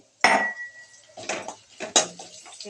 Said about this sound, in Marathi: हे काजू बदाम आहे ना हे टाकते आणि याला दोन मिनिटं परतून घेते